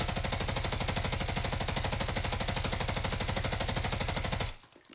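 A light machine gun in Warzone fires a long unbroken stream of rapid, evenly spaced rounds into a wall, loud and mechanical, stopping abruptly near the end.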